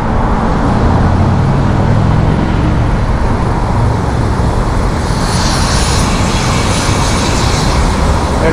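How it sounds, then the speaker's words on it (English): A loud, steady helicopter engine roar near a New York City heliport fills the whole stretch, a continuous rotor-like drone with no speech, rising slightly in brightness toward the end. "Helicopter's over there."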